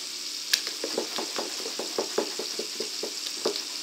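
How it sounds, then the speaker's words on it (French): Fish and chips batter, a thin crepe-like mix, being stirred again just before use, with a steady run of soft wet slaps and clicks from the whisk or spoon against the bowl, close and fairly quiet. "On peut la remélanger un petit peu juste avant de s'en servir."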